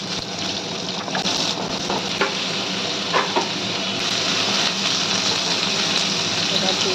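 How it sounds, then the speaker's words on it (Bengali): Potatoes dropped into a kadai of hot oil with kalonji fry with a dense, steady sizzle that stays loud and even. A few faint clinks and stirs break through the hiss, and no one speaks. "এবার একটা কড়াইতে 2 চামচ তেল গরম করে একটু কালো জিরা দিয়ে এবার আলুটা ছেড়ে দিচ্ছি।"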